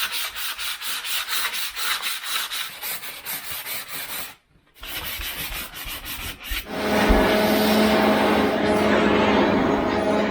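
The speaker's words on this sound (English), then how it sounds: "So I'll proceed to sand the remainder of the timber floor." A sander works across a timber floor in a loud, close scraping rasp, first in rhythmic back-and-forth strokes, then after a short pause in a steadier continuous grind.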